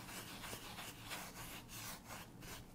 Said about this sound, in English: work the paint into the fabric rather than just leaving a thick layer on top with a back and forth sweeping motion